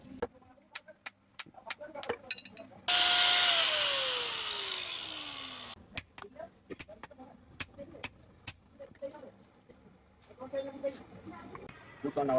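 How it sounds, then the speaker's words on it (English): A blacksmith's angle grinder grinds a new blade in one loud, sustained burst of about three seconds, its whine descending as it spins down, framed by clanks, taps and workshop noise. "Grinder setting a new blade."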